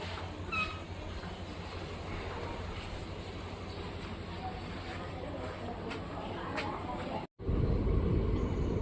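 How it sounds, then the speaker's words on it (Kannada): A passenger train on the Shivamogga–Mysore line pulls out of K R Nagar railway station, with a steady low rumble and rolling noise heard from on board, a brief dropout, then a louder run. "ಸ್ಟಾಪ್ ನಂತರ ನಮ್ಮ ಟ್ರೈನ್ ಹೊರಟಿದೆ ಕೆ ಆರ್ ನಗರದಿಂದ"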